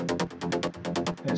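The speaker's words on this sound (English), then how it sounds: "the first element I want to show you is this mid bass sharp" A mid bass synth with its filter cutoff driven by an envelope pulses in a quick, steady rhythm, each note opening bright and snapping shut, about a dozen stabs in a rolling groove, fairly quiet and alone.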